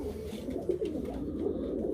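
An Ankara tumbler pigeon coos softly in low, murmuring tones, close by, with a faint steady background noise and no talking.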